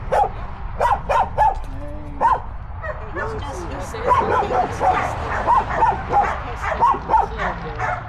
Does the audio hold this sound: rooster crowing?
no